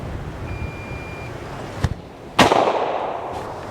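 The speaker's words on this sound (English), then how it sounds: "I'll try shooting a couple of feet below it and see how that goes." Gunfire in the video game Back From The Brink 2: two sharp, loud reports roughly half a second apart, the second followed by a brief decaying rumble, with no talk.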